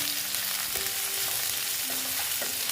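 Potatoes frying in a pan, a dense continuous sizzle with a few soft stirring scrapes, close and loud, nobody speaking.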